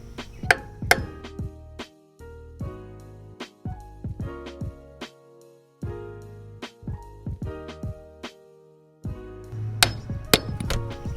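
A hammer taps a metal bearing buddy cap side to side to work it off a trailer axle hub, sharp ringing metallic strikes in irregular clusters separated by short pauses, close and clear.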